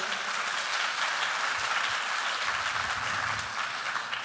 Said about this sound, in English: Let's give IAA and ASHK a big round of applause.